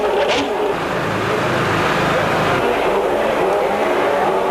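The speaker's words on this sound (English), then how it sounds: "One by one, the cars came up to their grid positions." 1992 Formula 1 race cars roll up one by one to their grid positions on the final race weekend, producing a continuous loud engine drone with crowd and ambient noise around it.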